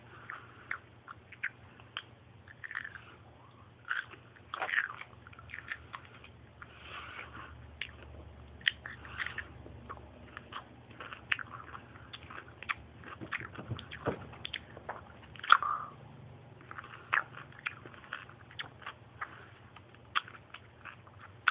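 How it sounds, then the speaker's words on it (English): Crunchy bites and wet chewing of pickles, close and intimate, with repeated irregular crunches and mouth sounds over a low steady background hum. "me eating pickles"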